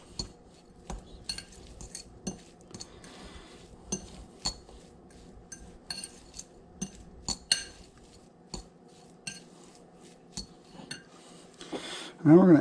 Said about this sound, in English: So now we're just going to mix all that up.